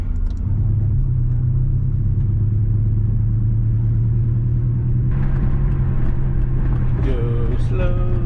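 Twin-turbo Subaru engine running with the exhaust opened up, a loud, steady low rumble and idle from inside the car, with brief revving toward the end and a voice talking over it.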